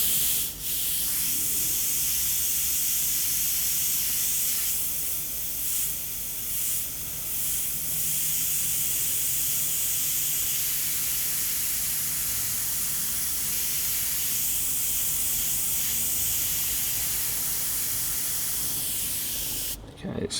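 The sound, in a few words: airbrush spraying paint through a stencil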